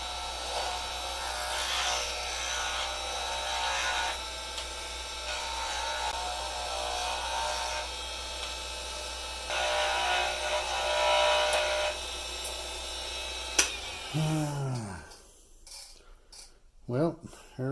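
A skew chisel cuts on a spinning lathe, turning a pen blank made from pistachio shells, with a low steady motor hum and bursts of scraping, hissing cuts before the lathe winds down.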